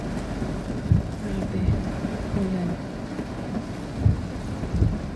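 Heavy rain and strong wind during a storm, a steady dense roar with gusty rumbles and occasional low thuds, close and loud throughout.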